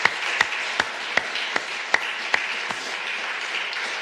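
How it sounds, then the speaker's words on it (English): Audience applause at a conference closing, a steady wash of many hands clapping with a few sharper, regularly spaced claps standing out near the front, moderately loud and continuous throughout. "So thank you very much and joining me in a round of applause."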